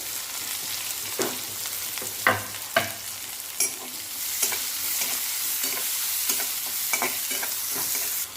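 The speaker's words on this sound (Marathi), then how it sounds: "आता हा कांदा टाकूया कट केलेला" Chopped onion dropped into hot oil with garlic and cumin sizzles loudly and steadily in a pan, close up, with repeated scrapes and knocks of a stirring spoon against the pan.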